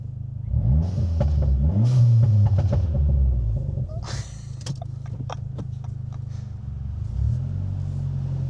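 A Dodge Neon SRT-4 exhaust rumbles loudly under acceleration, then a rapid burst of sharp cracks and pops rings out on lift-off before settling back to a low idle rumble.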